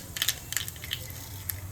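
Mustard seeds sputter and pop in hot coconut oil, giving a handful of sharp, scattered crackles close by over a low background.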